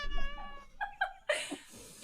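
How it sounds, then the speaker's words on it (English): A fluffy house cat meows a few times, short rising cries near the microphone, with faint voices and laughter from a virtual improv comedy match around it. "So good to meet your cat."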